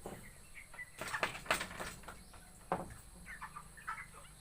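Broiler chickens about three weeks old in a coop, some settling to sleep, give faint scattered clucks and soft chirps with a few brief bursts of rustling and wing movement, no talking.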